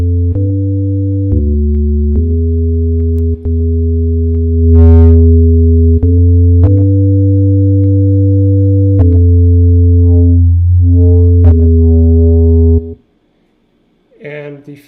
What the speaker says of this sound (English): And the filters are going to sound quite different depending on the resonance, as well as the distortion and this slope.